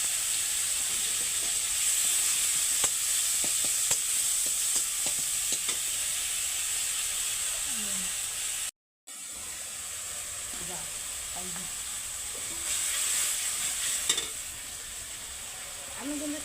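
Chopped tomato, a bay leaf, ginger and garlic sizzle in mustard oil in a pan, a steady close crackling hiss with occasional stirring clinks and a brief gap partway through.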